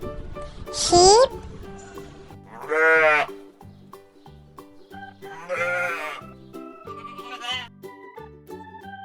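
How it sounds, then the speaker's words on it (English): Several separate sheep bleats, loud and close, come at intervals, each a wavering, quavering cry, with a faint steady background tune underneath. "Sheep."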